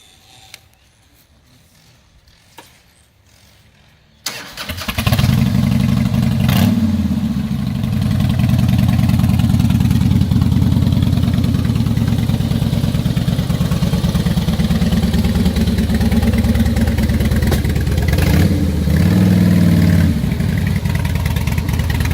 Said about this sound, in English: Do you want to fire it up for us?